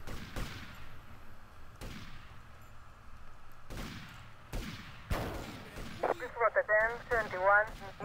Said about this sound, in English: There are guys shooting at me.